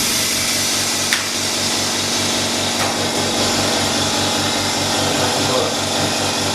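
An OCA (optically clear adhesive) laminating machine running after installation, giving a steady pulsing mechanical hum with a regular beat, close and continuous, with faint background talk and a couple of brief clicks.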